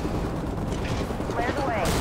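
Gunfire in Call of Duty: Ghosts during a combat mission, a dense, loud rumble of shots and explosions under radio chatter and in-game voices.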